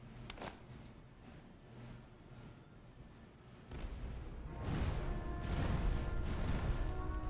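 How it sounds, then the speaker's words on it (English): Artillery fire in the Master of Command strategy game: distant booms and rumbling blasts that grow denser and louder toward the end, layered with crackling impacts. "Artillery flying in already"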